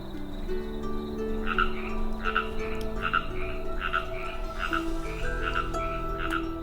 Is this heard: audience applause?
no